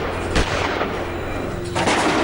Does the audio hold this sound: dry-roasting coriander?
no